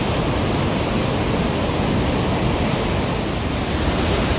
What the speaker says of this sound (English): Wow, here they are, Isaac Falls. Just a mass of white water.